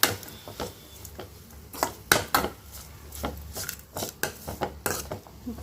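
Cabbage for a Tamil-style poriyal sautés in a pan while a spatula stirs it, making a quiet, irregular series of scrapes and metallic clinks against the pan, close by and fairly soft.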